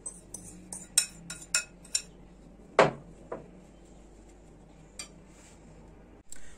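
Kunafa dough pressed into a plate with a utensil, giving a run of light metallic clinks and scrapes against the dish, one sharper knock near the middle, close and fairly quiet with no talking.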